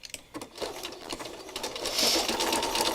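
A sewing machine stitches along the edge of a handmade piece with the presser foot guiding the fabric, a close, steady mechanical whir with rapid needle clatter that builds slightly louder.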